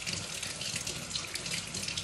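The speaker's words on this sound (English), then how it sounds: "So I wash it real good with warm water." A kitchen tap runs warm water in a steady, even hiss while vegetables are washed for Haitian pikliz, close and continuous with no talking.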